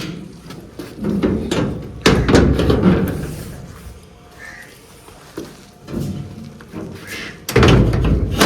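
Household doors being shut one after another in a home in the early morning, giving several loud bumps and slams spread through the stretch, with quieter rustling and movement between them.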